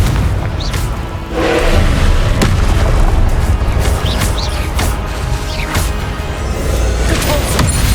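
Repeated Confringo spell blasts in Hogwarts Legacy boom and crackle through a dense stretch of combat, with fiery bursts and impacts layered over one another and no clear pauses.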